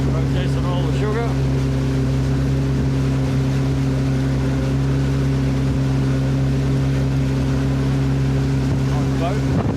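Motorboat on the Burnett river, a loud, steady engine drone with strong low hum running the whole time, mixed with wind buffeting the microphone and light voices underneath.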